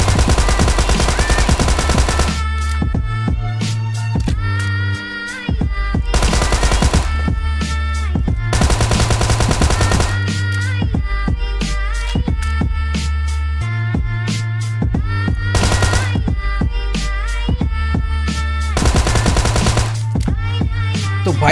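A Tommy gun fires long rapid bursts in a battle royale video game, loud close automatic fire repeating in steady volleys with brief gaps, over constant game background sound.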